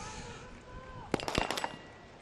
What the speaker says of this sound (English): I love listening to that Saudi sniper rifle.